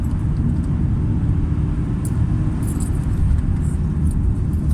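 A Peugeot 406 Coupe 2.2 HDi being driven at a brisk pace gives a steady, dense low rumble of engine and road noise inside the cabin, unbroken and without talk.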